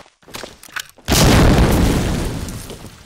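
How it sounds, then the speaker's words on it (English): Grenade explosion in Medal of Honor: Allied Assault, a loud close boom that erupts suddenly after faint game noise and slowly decays into a rumbling tail. "What a random nade."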